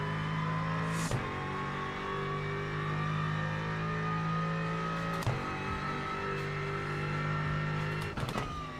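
GT race car engine in the iRacing sim game, a steady sustained drone with a few sharp shifts or clicks at intervals, heard alone at moderate level.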